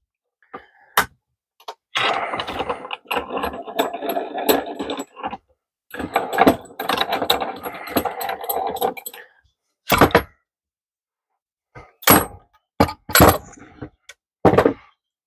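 Wooden cribbage board top taken out of clamps in a workshop: scattered knocks, clunks and scraping of clamp handles and wood, several separate bursts of handling noise with quiet gaps between.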